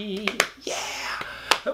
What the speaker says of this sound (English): the more we clap together, the happier we'll be.